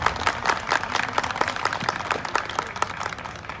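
Spectators clap for a team at a rodeo tournament, a fairly dense patter of hands close and steady, with light crowd noise underneath.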